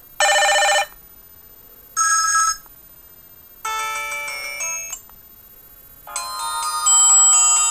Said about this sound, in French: Donc, vous avez 5 sonneries différentes.